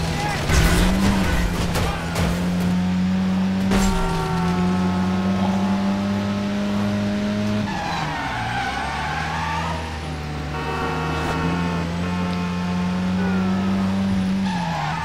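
Tires squealing as a car drifts in the driving game Driver San Francisco, long sustained screeches that waver in pitch over a steady engine drone, loud and continuous, with music or other sounds mixed in.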